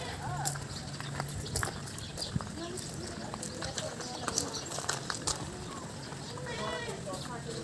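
A small horse at a farm with open grounds and other animals clip-clops softly amid background bird calls and cooing, while people talk throughout.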